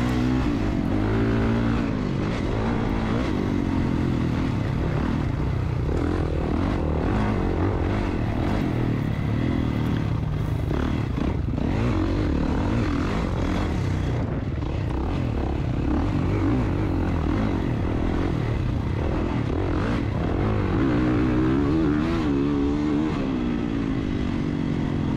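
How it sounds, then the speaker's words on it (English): Suzuki motorcycle engine running steadily during a 40-plus beginner motocross race, a loud continuous drone with shifting pitch and no talk. "Dave kickstarting the Suzuki again."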